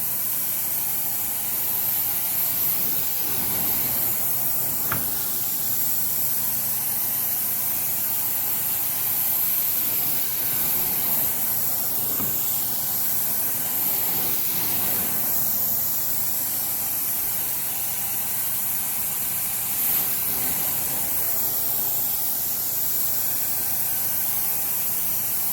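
A steam cleaner works over carpet with a steady, fairly loud hiss that runs unbroken, with faint mechanical clicks and soft pulses mixed in and no talking.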